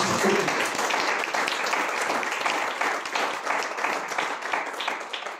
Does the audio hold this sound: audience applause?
yes